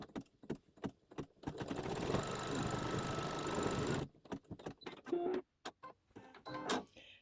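A SweetPea embroidery machine stitches a tack-down on a quilt block in a steady, close mechanical run of about two seconds, set between short clicks and taps of handling.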